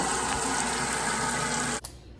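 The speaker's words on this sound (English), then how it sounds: "All he has to do is fill this tank with water from the tap" Tap water pours steadily into a water purifier tank, a loud continuous rush that cuts off abruptly near the end, leaving a faint quieter trickle.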